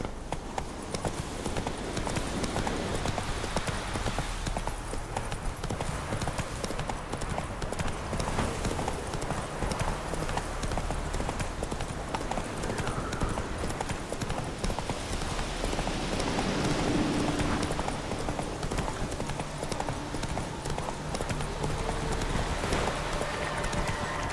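Roach, a horse in The Witcher 3, gallops with steady rapid clip-clop hoofbeats that stay loud and close throughout, over a dense wash of outdoor game ambience.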